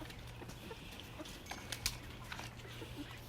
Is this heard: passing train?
no